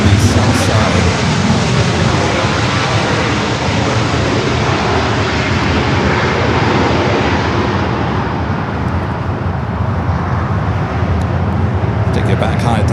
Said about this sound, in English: Now we do have Ramos A330-200 up next for arrival on the south side.